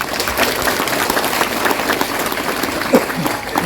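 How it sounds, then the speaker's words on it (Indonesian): An audience at an Indonesian Islamic religious lecture claps loudly, a busy, uneven patter of many hands with voices and cheers mixed through it. "Tepuk tangan untuk kita Bapak Ibu semua."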